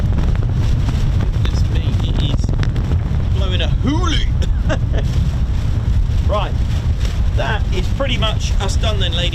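Strong wind buffets the microphone at the RAF Lakenheath airfield in a constant loud roar, with someone talking over it and faint whistling tones.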